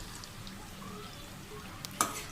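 Finely chopped onions frying in a pan for chicken biryani, a soft, steady, quiet sizzle with a small clink of a utensil near the end.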